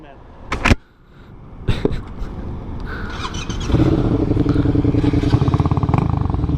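A 2015 Yamaha street motorcycle: a few sharp clicks and clunks come first, then the engine starts and settles into a loud, steady, close-by running note that lasts to the end.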